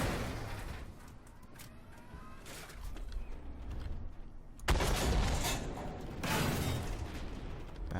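Tank shell ricocheting off enemy armor in the video game Armored Warfare, a Type 98 main battle tank firing on an Ariete, heard as sharp impact bursts with rumbling battle noise around them, two loud hits in the later half.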